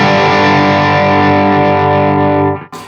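A Dr. Z Maz 18 guitar amp rings out one sustained overdriven chord, rich and thick, that decays over a couple of seconds before a brief cut-off noise.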